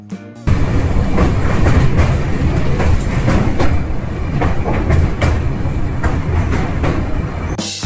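The Kamrup Express (15961) from Kolkata to Dibrugarh rumbles loudly along the tracks with a steady rhythmic clatter of wheels over rail joints, heard close from inside a carriage.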